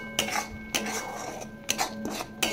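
A pea filling being stirred in a cooking pan, with a few distinct metallic scrapes and clinks of a utensil against the pan over a steady low hum.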